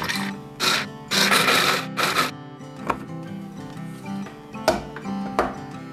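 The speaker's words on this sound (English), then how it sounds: "let's grind up these pistachios." A food processor grinds pistachios in several loud bursts of a few seconds each, then quieter rattling pulses and clicks as the nuts are processed for a holiday cheese ball.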